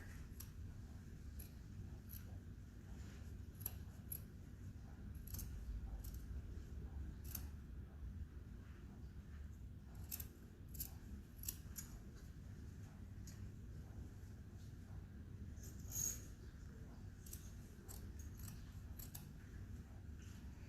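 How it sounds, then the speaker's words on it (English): Scissors snip through layered fabric close to the seam of a homemade three-layer cloth mask, a quiet, steady series of short cuts repeated over and over, close to the microphone. "you're wanting to cut as close to the seam as you can without catching your seam in there"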